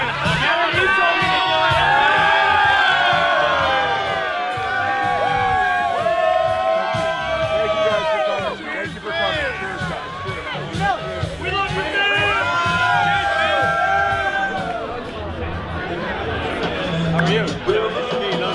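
A large crowd after a live show in Dallas, near the Winter Classic, keeps up loud cheering and whooping with many overlapping voices, a dense roar of shouts and chatter that lasts throughout.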